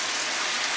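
Boiling water pours steadily into a pan of minced-meat dish, a continuous close splashing hiss with no breaks for under a second.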